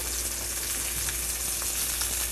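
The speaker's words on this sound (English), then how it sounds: "You want to be careful when you're searing it up." Ancho-crusted salmon searing in a hot pan, a steady, even sizzle and crackle that holds constant throughout with no voices.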